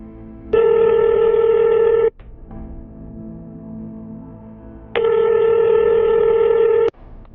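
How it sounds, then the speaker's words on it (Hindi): Cartoon phone call ringing: two loud, even electronic ring tones about two seconds long each, separated by a quieter stretch with a low buzzing hum, from a Hindi horror animation. "कॉल लगाता है।"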